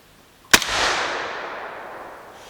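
A single shot from an AEA Megalodon .457 air rifle firing a 185-grain bullet, a sharp loud crack followed by a hissing, decaying rush of air that fades over about two seconds.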